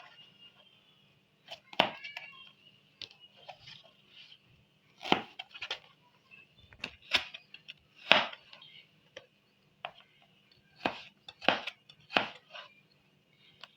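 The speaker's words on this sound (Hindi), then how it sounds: "इस तरह बारीक बारीक काटना है इनको लंबाई में" A knife cuts a vegetable finely lengthwise on a board for an Italian salad, sharp distinct chops coming in irregular clusters, close and clear against near silence.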